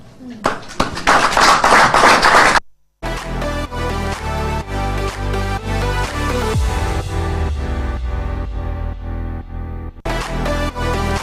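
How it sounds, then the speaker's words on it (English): Light, scattered clapping from an audience after a speech by Nigerian president Bola Tinubu, sparse taps under music and talk, with a brief pause midway. "he had people clapping their hands perfunctorily"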